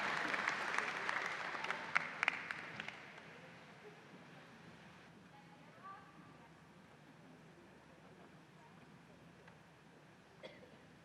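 A burst of applause from an audience at a college honors convocation ceremony that quickly thins out and fades, followed by quiet room noise with a few faint coughs.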